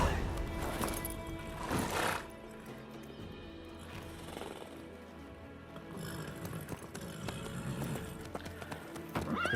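A horse gallops in The Witcher 3: Wild Hunt, with steady rhythmic hoofbeats and a brief whinny, while in-game characters talk over the ride.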